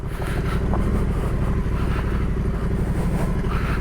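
A Yamaha Tenere 700 motorcycle ridden off-road on single track, its engine droning loud and steady with a rough pulsing rumble, close up and without talk.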